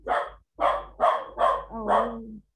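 A dog gives five sharp barks in quick succession, loud and close, each a short burst, the last one slightly drawn out with a whining tone, in an otherwise quiet indoor room.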